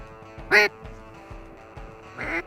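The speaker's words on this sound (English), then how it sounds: "We've got those ducks or geese." Ducks quacking during a waterfowl hunt over an oat field, two loud nasal quacks about two seconds apart over a quiet outdoor background with faint low thumps.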